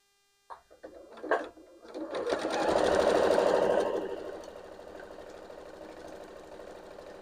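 A sewing machine stitching over thick kite seams: a couple of brief clicks, then the motor winds up into a loud, rapid whirring run that eases back to a steadier, quieter drone.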